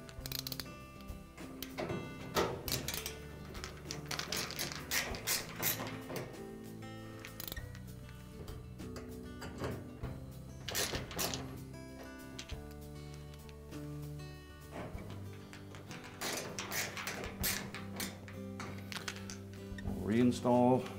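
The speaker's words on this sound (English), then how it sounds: "We're ready to install the 4 5/16 hex head screws." Hand installation of 5/16 hex head screws on an Amana dryer during a drum glide replacement: scattered close metallic clicks, taps and ratcheting over about twenty seconds, with faint background music.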